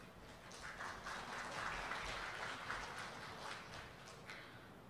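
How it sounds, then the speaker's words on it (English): Applause from an audience after a performance of the traditional dance Tarian Putri Saadah at a formal university inaugural lecture ceremony, a steady dense wash of clapping held at moderate level throughout without talk. "Give a warm round of applause to Club Seni Tari Adi Mastuli with a beautiful rendition of Tarian Putri Saadah"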